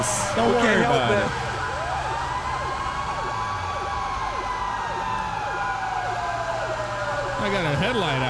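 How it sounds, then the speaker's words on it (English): A fire truck siren in GTA 5 wails in repeating rising and falling sweeps, then holds a long descending tone before restarting. It is loud and close, alongside engine rumble, and nobody speaks. "How do I turn on a siren to this?"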